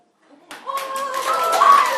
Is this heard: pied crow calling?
no